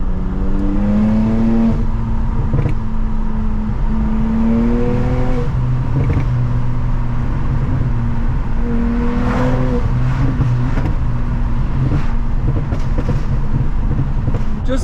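A BMW 335i accelerates hard while driving, the engine note rising through repeated gear pulls with short pauses between shifts, loud and close from inside the car, with intake whoosh and rattles.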